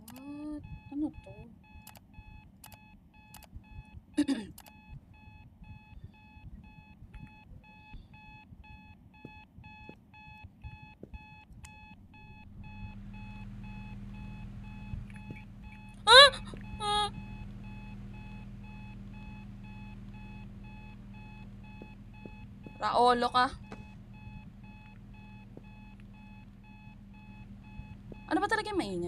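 A steady electronic alarm clock tone in a video game beeps on and off, with a low droning hum building underneath and a few brief clattering bursts; a person speaks briefly.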